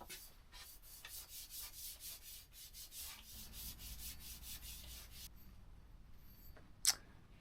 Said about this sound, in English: I'm just going to finish it off with a little bit of wax